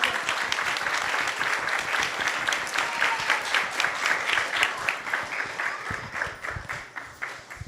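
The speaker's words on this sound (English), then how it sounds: "Let's clap the hands." An audience at a spiritual talk claps their hands in sustained, lively applause, thick and even at first, then thinning into separate claps toward the end.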